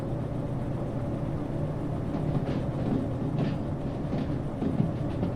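A train rolls along rails in the Derail Valley video game, a steady low rumble with faint clicking from the wheels, continuous and close.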